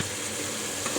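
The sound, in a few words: mutton sizzling while being sautéed with spices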